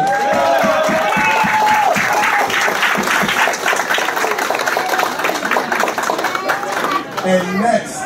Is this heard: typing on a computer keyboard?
no